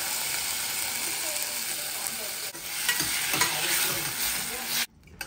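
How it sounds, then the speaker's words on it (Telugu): Mustard seeds, cumin and green chili crackle in hot oil for tomato dal, a busy close sizzle with spluttering pops and a stirring spoon, louder midway before cutting out near the end. "పోపులో జస్ట్ ఆవాలు, జీలకర్ర అండ్ గ్రీన్ చిల్లీ వేసేసుకున్నా"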